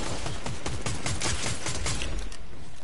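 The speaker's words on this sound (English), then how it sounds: "Someone's shooting you." Rapid gunfire from the video game Fortnite, a dense burst of repeated shots in quick succession at steady loudness throughout, with no talking.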